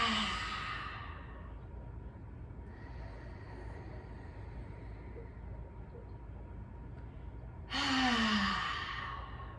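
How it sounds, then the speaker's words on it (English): Deep breaths exhaled noisily through the mouth during a guided grounding meditation: two long, breathy rushes of air, one at the start and one near the end, with a quieter stretch between. "So we're going to take them in through the nose and let them out through the mouth with some noise."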